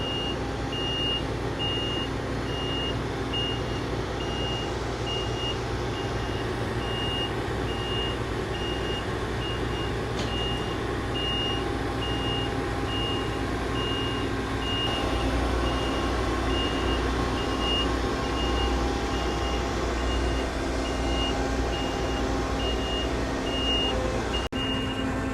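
A truck's reversing alarm beeps steadily in an even rhythm while it backs a wide load off a trailer, the engine idling as a constant low rumble beneath.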